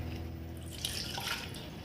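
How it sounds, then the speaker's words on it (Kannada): Carrot cooking water is poured into a pot of carrot kheer: a short, steady splashing trickle that swells briefly midway, close and moderately loud with no talking. "ಇದು ಕ್ಯಾರೆಟ್ ಬೇಯಿಸಿರೋ ನೀರು, ಸೊ ಇದನ್ನು ಹಾಕೊಳ್ಳೋಣ"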